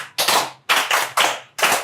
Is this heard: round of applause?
yes